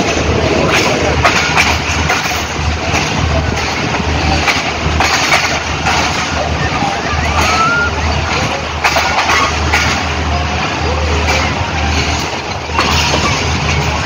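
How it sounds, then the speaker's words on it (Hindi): A green passenger train rumbles past at Lahore station, a loud steady roar of engine and rolling wheels with rhythmic clicking of cars over the rails throughout. "वो ग्रीन ट्रेन जो ट्रेन चलती है वो जा रही है,"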